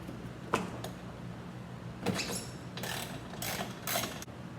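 Ratchet working 10 millimeter bolts off a plastic panel under a Lexus GX460, heard as a few short bursts of rapid clicking, close and moderately loud, with no talk.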